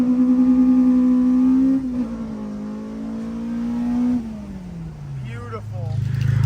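A K24-swapped Honda RSX Type S engine revs up with a rising exhaust note, holds, then drops back down, loud and close, with a voice briefly at the end.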